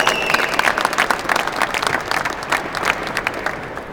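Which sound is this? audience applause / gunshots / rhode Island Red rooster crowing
audience applause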